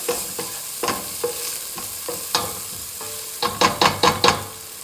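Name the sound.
onions frying in a pan for meatball sauce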